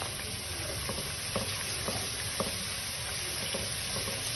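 Four to five garlic cloves fry in a karahi during a boneless karahi recipe, a continuous soft sizzle broken by the scrape of several stirring strokes, close and moderately quiet.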